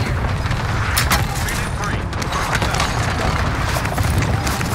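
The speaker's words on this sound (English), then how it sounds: "Fire the airstrike here." A video game battle with an airstrike and gunfire: a constant, dense roar of explosions and rapid shots fills the scene, loud and close, with sharp cracks standing out.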